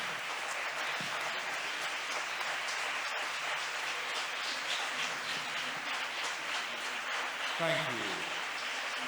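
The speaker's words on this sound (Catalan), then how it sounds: "un aplaudiment per tots vosaltres" A hall audience of librarians and booksellers applauds at a reading festival proclamation, a continuous even wash of many hands clapping at moderate volume, with a short voice cutting in near the end.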